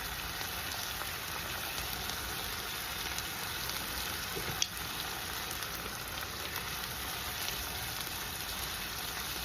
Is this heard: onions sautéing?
yes